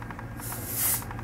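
Hair volume spray mists onto the hair roots in a single short, soft hissing burst, close and fairly quiet.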